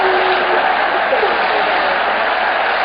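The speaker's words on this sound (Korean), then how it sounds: "함성과 더불어서 박수로 전상훈 박사님" An audience at a lecture event on AI trends claps and cheers to welcome a speaker to the stage. The noise is loud, dense and continuous, and a held shout blends in early.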